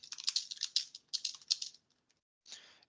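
Short lines of Python code typed on a computer keyboard: rapid, crisp keystrokes in uneven bursts, a few isolated taps, then a short scratchy rustle at the end, close and clear with no talking.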